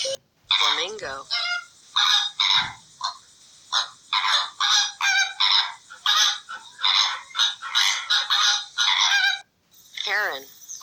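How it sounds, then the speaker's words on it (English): A flamingo's honking call, played as a bird sound for children: loud, goose-like honks and squawks in quick repeated bursts that fill the whole stretch. "Flamingo."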